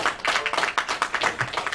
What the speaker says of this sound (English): the second round of applause, when we actually appeared